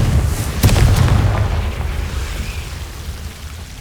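A Confringo fire spell explodes in Hogwarts Legacy with a single loud, deep boom near the start, followed by a rumbling tail that slowly dies away.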